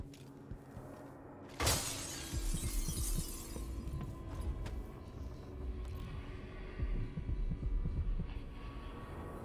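A glass bottle shatters in the video game Dishonored 2 with a single sharp crash early on, then fades into a low, steady ambient hum with faint thuds.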